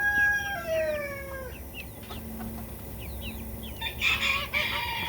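Chickens on a farm, including a Silkie, crowing and clucking close by, with overlapping calls and chirps against a steady outdoor background.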